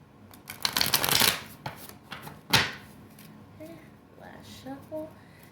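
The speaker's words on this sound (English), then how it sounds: "It's weird because the cards were shuffling so easy." Tarot cards being shuffled in quick riffling bursts, followed by a sharp snap and softer handling sounds while a voice speaks briefly near the end.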